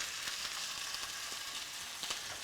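Veal sizzles in a hot pan with vegetables, a continuous close crackle of frying broken by sharper pops and light stirring sounds.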